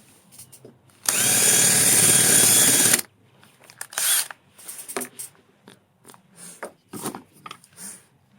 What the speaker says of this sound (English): Let me drill it